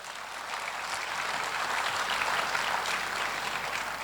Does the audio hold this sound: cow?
no